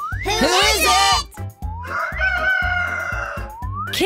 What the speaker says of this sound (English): Kids, do you know which animal goes cock-a-doodle-doo? It's Bartolito the rooster!